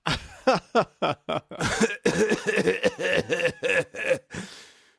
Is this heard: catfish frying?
no